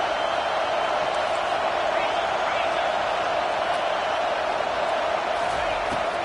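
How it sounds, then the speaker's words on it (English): Stadium crowd in a Madden football video game roars steadily to fire up the defense, a dense, continuous wash of cheering held at an even level. "The roar of the crowd trying to fuel this defense to keep them pinned in their own end."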